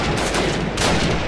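Loud, rapid bursts of gunfire from the Call of Duty 1 video game, close and continuous, with no talk.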